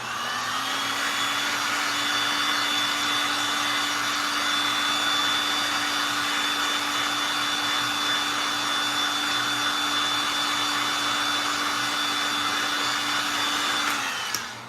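A heat gun blows steadily for about fourteen seconds while heating small wooden pieces for gluing on a thrift-store cross, a loud constant whirring hiss with a faint tonal whine that cuts off at the end.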